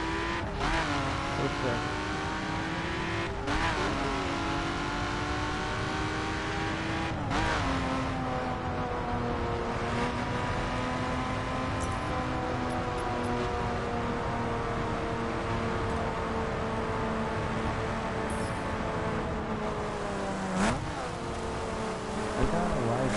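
A modified 2011 BMW Z4 street edition rated at 412 hp accelerates hard, its loud engine climbing through several gears in rising revs with brief dips at each shift, and one short spoken word early on.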